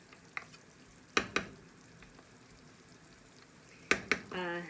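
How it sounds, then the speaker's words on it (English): Jerk tofu mixture being stirred with mayonnaise in a double batch: a few sharp spoon knocks against the bowl and soft wet mixing, quiet and close, with a brief voice near the end. "I'm going to stir in the mayonnaise"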